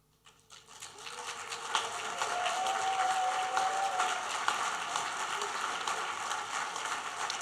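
Audience applause at a university engineering graduation ceremony, steady clapping that swells after a quiet start and holds at a moderate, distant level throughout.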